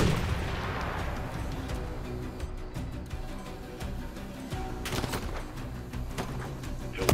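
Explosions and gunfire in the video game Call of Duty: Modern Warfare III, with a dense, continuous battle din of shots and booms and a few sharper blasts near the end.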